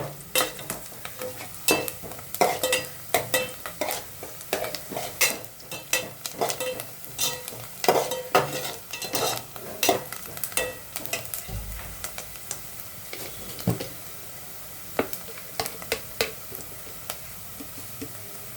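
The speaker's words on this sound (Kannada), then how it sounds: "ಈರುಳ್ಳಿ ಇನ್ನೊಂದು ಸ್ವಲ್ಪ ಫ್ರೈ ಆಗಲಿ" Chopped onions fry and sizzle in a pan for an egg masala dry, with a spoon stirring and scraping in irregular bursts of clinks and scrapes over a constant hiss, close up.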